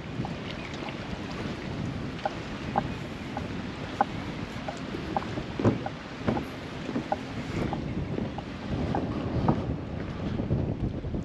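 Wind blows hard across the microphone at Lake Navarro Mills, a continuous rushing roar broken by scattered gusty buffets and faint knocks.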